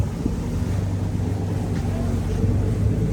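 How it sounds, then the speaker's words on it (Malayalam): An approaching boat's engine rumbles low and steady at Maamigili boat terminal in the Maldives, mixed with wind buffeting the microphone, continuous and moderately loud throughout. "വേറൊരു ബോട്ട് കൂടെ വരുന്നു"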